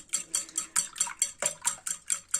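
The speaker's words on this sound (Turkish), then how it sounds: "Şimdi bunları böyle bir çırpma teliyle şöyle biraz çırpacağım." Village eggs whisked with a wire whisk in a bowl for homemade noodle dough: about a dozen quick, rhythmic metallic clinks and swishes, close and fairly soft, without talk.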